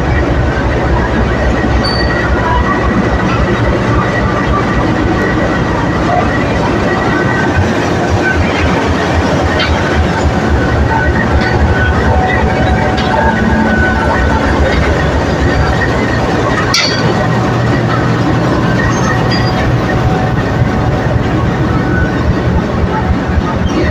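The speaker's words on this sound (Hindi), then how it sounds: "फोर 4553 के साथ सियालकोट एक्सप्रेस का रेक प्लेटफार्म नंबर 2 पर प्लेस हो रहा है" The Sialkot Express rake rolls alongside platform number 2 with a continuous loud rumble of wheels, rhythmic clickety-clack over rail joints and faint squealing, running steadily throughout.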